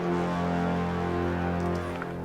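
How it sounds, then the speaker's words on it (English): Orchestral brass doubled by Spitfire Albion 1 sampled horns holds a sustained, sonorous chord, full and steady with a soft tail as it fades slightly at the end. "he has original brass, and then that's doubled with the Spitfire Albion 1 horns."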